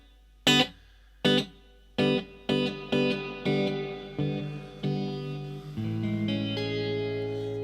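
Electric guitar played through a UAFX Lion amp pedal with the reverb turned all the way up, a series of picked chords and notes each ringing out into a long, washy tail, then a final sustained chord.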